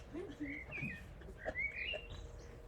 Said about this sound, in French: Je regarde les oiseaux.